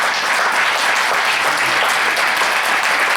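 Church congregation clapping for the Lord during a service, a loud, sustained crowd of hands beating together in a steady, dense roll.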